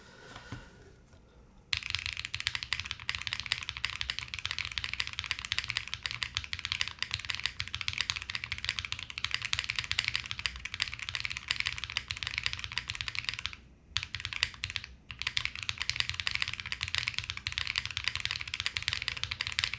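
Continuous clattering keystrokes on a Tyche75 mechanical keyboard built from custom parts, fast irregular typing close and fairly quiet, with a couple of brief pauses and no talking.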